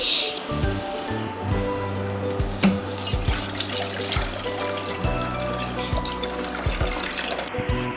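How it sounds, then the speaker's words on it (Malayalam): Water pours into a cooking pan while noodles are being made, giving a steady splashing trickle throughout, with occasional knocks and clatters. "നമ്മൾ പാനിലേക്ക് വെള്ളം ഒഴിക്കാൻ പോവാണ്"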